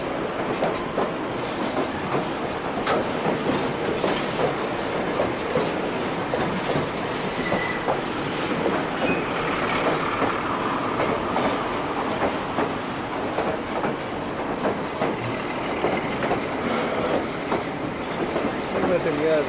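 A railroad ride in Alaska, with a continuous rumble of train wagons, rhythmic wheel clatter and occasional wheel squeal that stays steady and close the whole time, with voices faintly underneath.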